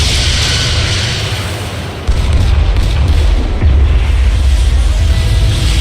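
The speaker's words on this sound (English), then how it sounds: "Firing torpedoes." Photon torpedoes fire and explode during a starship battle in the game Star Trek: Resurgence: a loud, deep, continuous rumble that surges heavier at about two seconds and stays booming to the end.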